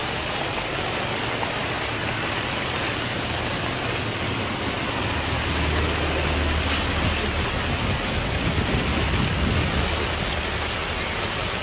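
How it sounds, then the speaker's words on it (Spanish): Steady, dense rain hiss fills the whole stretch, a constant broadband wash with a low rumble underneath and no voices. "Cuando está fuerte la lluvia."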